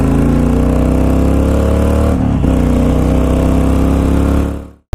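A 2007 Honda VTX 1300 cruiser motorcycle idles loudly up close, a steady deep rumbling engine note that dips briefly midway and then cuts off abruptly at the end.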